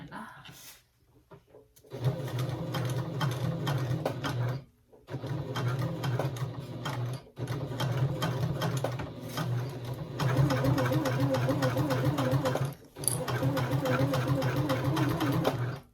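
A sewing machine stitches a tote bag in several loud, steady runs of rapid needle chatter, broken by short pauses where the fabric is repositioned, during a back stitch along the edge.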